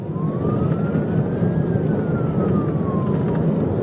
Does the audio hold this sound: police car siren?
yes